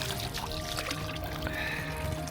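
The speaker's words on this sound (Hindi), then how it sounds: "यहाँ पे स्विट्ज़रलैंड में आपको जगह जगह इस तरह के ना वाटर फाउंटेन नज़र आएंगे, और ये बिल्कुल फ्रेश वाटर होता है" Fresh glacier water pours steadily from a public drinking fountain in Switzerland near Zermatt, a constant close splashing trickle filling a small pool, loud and unbroken with faint background noise.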